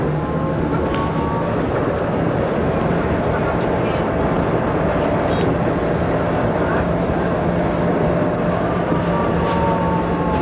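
A 1991 Berlin tram runs along its track with a continuous loud rumble and rolling rail noise throughout, heard from on board, with faint squeals rising now and then.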